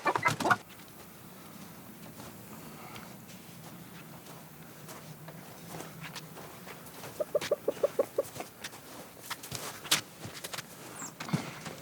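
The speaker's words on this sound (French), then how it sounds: "Là, il y en a 7 de poules rousses." Red hens cluck in a farmyard, a few scattered low clucks early on, then a short run of rapid clucking in the middle and more intermittent calls and rustling near the end, fairly faint.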